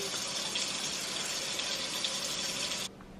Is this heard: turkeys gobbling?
no